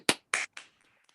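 A few sharp hand claps from an audience member or group, three crisp strikes in quick succession, the last one softer, followed by near silence.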